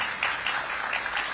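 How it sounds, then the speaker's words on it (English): Audience applause at a mayor's annual economic development event, a steady wash of clapping from a crowd, moderately loud and continuous throughout the short stretch with no talking over it. "Give them a big round of applause."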